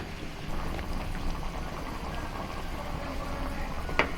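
Macaroni bubbles away in a pot of boiling water, a dense, steady rolling simmer of small pops that stays even throughout, with a single light tap near the end.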